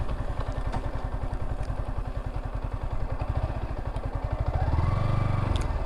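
Yamaha R15M sport motorcycle with a quickshifter, ridden on the road, engine thrumming in a steady rapid pulse throughout and swelling louder and deeper near the end as the throttle opens.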